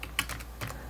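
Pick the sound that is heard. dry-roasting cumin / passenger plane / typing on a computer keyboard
typing on a computer keyboard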